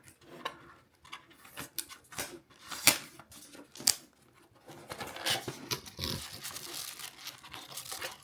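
A Tesla product box is opened by hand, with close, irregular rustling, crinkling of packaging, and a few sharp clicks and snaps at varying loudness, with no one talking.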